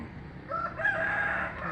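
A white parrot-like bird perched in a mango tree lets out a loud, drawn-out call close by, rising and holding for about a second with no speech over it.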